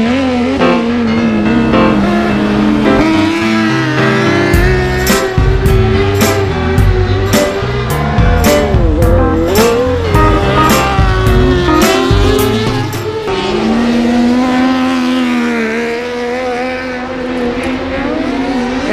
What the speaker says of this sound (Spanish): Joan Salix con el Speedcar Wonder, 126 kilómetros hora